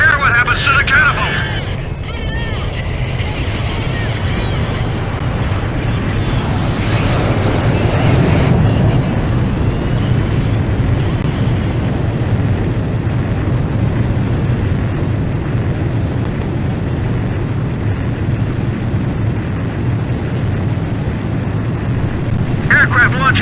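Jet launching off an aircraft carrier's catapult during an abandon-ship emergency in Ace Combat 5: a loud, sustained low engine roar with rushing wind that swells mid-clip, heard alone without talk.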